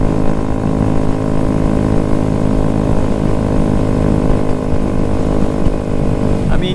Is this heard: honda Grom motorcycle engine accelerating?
yes